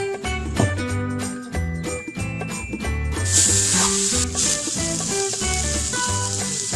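Mutton liver frying in a covered pan, a steady close sizzle running under loud rhythmic background music, with no speech.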